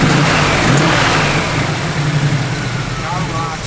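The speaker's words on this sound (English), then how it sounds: "Go ahead and fire it up, Mike" Loud, steady 1967 Chevrolet Camaro engine starting, rumbling and revving close by, a continuous throaty roar from start to finish.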